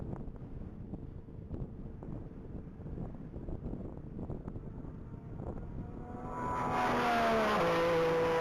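A gray Porsche 718 RS60 on a top-speed mile track at the Texas Mile, its engine note rising from a distant rumble to a louder, climbing whine as it accelerates, with wind buffeting the microphone throughout.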